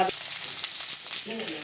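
Onions fry in a pan with a ginger, garlic, cinnamon, clove and cardamom paste, a dense crackling sizzle with brief stirring scrapes, close and steady.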